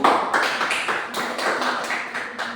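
Classroom students applauding for a presenting group, a short burst of many hands clapping, fairly close and steady, fading slightly toward the end.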